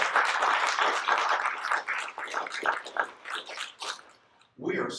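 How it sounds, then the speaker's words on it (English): An audience at a film school event gives a round of applause, dense close clapping that thins and fades over several seconds before a voice resumes. "So if we could have a round of applause for the sponsors"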